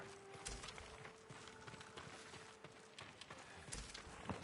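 Horse hooves clip-clop steadily in the video game Ghost of Tsushima, a close, even trotting rhythm carried over a soft ambient bed with a faint sustained tone.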